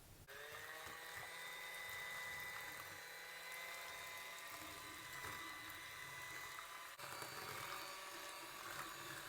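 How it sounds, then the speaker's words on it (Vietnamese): An electric egg beater on the second of three speeds whips eggs and sugar, giving a steady, continuous high whirring buzz close up that barely changes for the whole stretch. "Máy đánh trứng của mình có 3 số thì mình đánh ở số 2."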